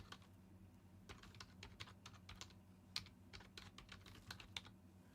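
A computer keyboard clatters under fast typing: steady irregular clicks and taps, faint and close, with no speech.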